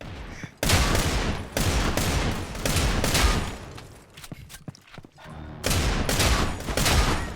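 Rapid bursts of automatic gunfire from a video game shooter rattle loud and close, with several sustained volleys broken by brief gaps and scattered single shots.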